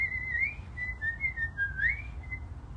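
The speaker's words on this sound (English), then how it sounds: "I'll warm up my whistle, too. Yeah, I'll play really softly for that." A whistle is played softly to warm it up, giving a steady thin tone that slides up and down in pitch over a low background rumble, with no voices.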